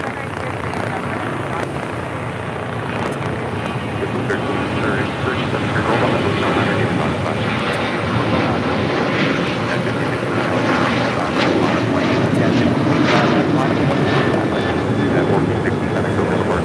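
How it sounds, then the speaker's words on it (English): A United Airlines Boeing 737 MAX 9 taxis at LAX, its jet engines producing a steady, broad roar at moderate distance that swells slightly toward the end. "That is United Airlines Flight 1977 on the 737 MAX 9"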